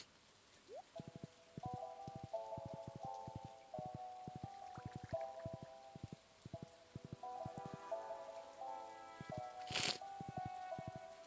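Rain falls steadily in a video game, a soft patter under a plucked melody of game music, with a brief louder burst near the end.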